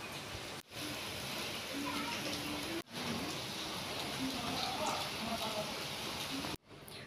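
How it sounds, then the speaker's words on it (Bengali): Steady rain falls outside a house after a night of downpour, a soft, even hiss heard from indoors. A faint voice talks over it. "দেখুন, কাল রাত থেকে বৃষ্টিটা হচ্ছে অ্যাকচুয়ালি।"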